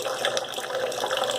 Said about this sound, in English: The water's pretty much just cycling back and forth.